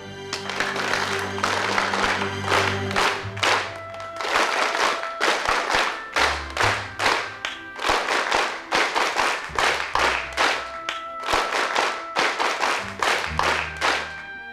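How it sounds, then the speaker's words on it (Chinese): Students clapping for their school's second-year football team in rhythmic bursts of steady, fairly loud applause, with brief pauses between the rounds. "来，请同学们跟我一起为他们鼓掌。"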